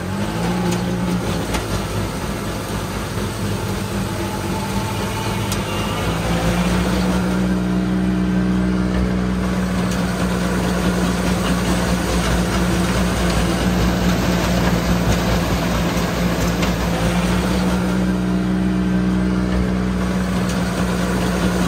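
A Ford Fusion engine held at high revs in low gear, a loud steady drone that sags and labours as it bogs down, then swells again, droning on without any talk.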